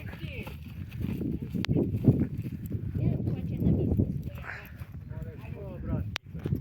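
A stallion's hooves clip-clopping at a walking pace, mixed with handling noises and rustling; someone speaks briefly at times over the steps.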